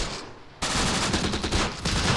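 Gunfire at enemy units in the war game Close Combat: The Bloody First, a loud, steady fusillade of overlapping rifle and machine-gun shots starting abruptly after a brief quieter moment.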